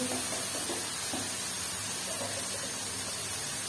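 Chicken frying in a pan with turmeric and ajwain for a dhaba-style cauliflower potato curry, a dense steady sizzle with faint stirring scrapes, close and fairly loud throughout.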